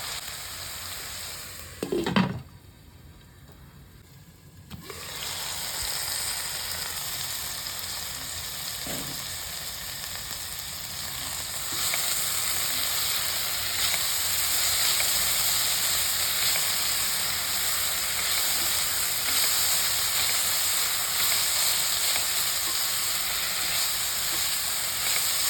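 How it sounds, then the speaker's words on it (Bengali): Potatoes cook in a covered pan, giving a steady soft sizzle and hiss throughout, with a brief clatter early on and a faint clink later. "আমি এতে ঢাকনা দিয়েই আলুটা সেদ্ধ করবো"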